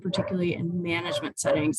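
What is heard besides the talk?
puppy barking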